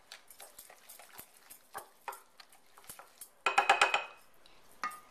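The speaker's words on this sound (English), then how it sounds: "My 2 beaten eggs. And my sugar. I'm going to kind of mix that together a little bit." A utensil mixes two beaten eggs with sugar in a bowl, making light scattered clicks and taps that swell into a quick run of louder clinks against the bowl, then a final tap.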